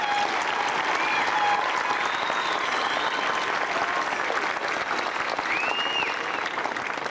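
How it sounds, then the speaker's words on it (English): Graduation audience at a 1998 high school ceremony in Bakersfield, California, applauding in a steady, dense wash of clapping that fills the hall for the full duration, with faint whoops and whistles scattered through it. "Let's give those we have recognized and those we may have unfortunately missed a very big round of applause."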